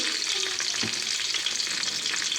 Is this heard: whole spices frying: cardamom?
yes